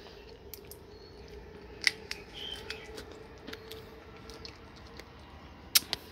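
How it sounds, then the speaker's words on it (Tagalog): Scissors snip through freshly harvested farm produce: two crisp, sharp cuts stand out over a steady faint outdoor background, with a few softer handling clicks between them. "Tamang tama mga kaibigan, may gunting tayo."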